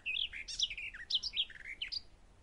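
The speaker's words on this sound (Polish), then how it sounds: "już skowronek wita pieśnią bliski dzionek" A skylark sings at dawn as a sound effect in a radio play: a quick, bright run of high chirps and warbling trills, steady and moderately close, with no voices over it.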